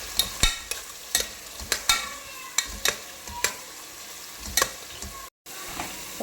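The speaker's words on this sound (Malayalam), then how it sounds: "നന്നായിട്ട് വഴറ്റിയെടുക്കാം." Sliced onions with cinnamon, fennel, cardamom, star anise and ghee sautéing in a pressure cooker for chicken biryani, giving soft frying hiss broken by a series of sharp spoon clinks and scrapes against the metal, close and quiet.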